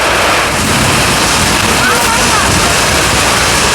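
Heavy rain pours steadily outside a boat on a Sundarbans river trip, a loud continuous broadband wash that fills the whole stretch without pause.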